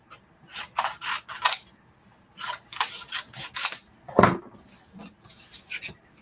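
Scissors snip repeatedly in short bursts of crisp cuts, close and clear, with a sharp clack partway through and no talking.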